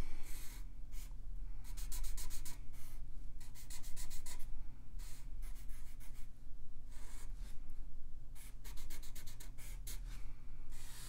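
Pen or pencil on paper drawing a circuit diagram by hand, close and clear, with bursts of rapid scratchy strokes separated by short pauses.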